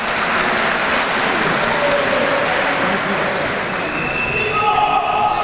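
Fans at an Italian Serie B basketball game between Pavia and Olginate applaud a substitute coming on, a broad, steady wash of clapping and crowd noise filling the arena under continuous play-by-play commentary.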